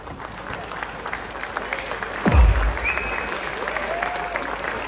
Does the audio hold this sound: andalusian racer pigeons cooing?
no